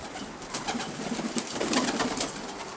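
Double-crested tumbler pigeons cooing nearby, soft repeated throaty coos and rustling from several birds in a loft, steady and moderately loud with no talk.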